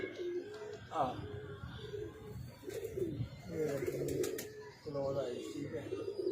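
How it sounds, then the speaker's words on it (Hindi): A pure Kamgar pigeon coos repeatedly up close in soft, throaty rolling phrases, while someone talks over it throughout. "अब ये जो कबूतर है, ये प्योर कमगर कबूतर है।"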